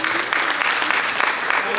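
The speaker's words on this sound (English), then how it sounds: "please give a round of applause for this also" Audience applause at a fundraising event for the Jagannath temple of North America, steady dense clapping from a crowd throughout, filling the room with continuous sound.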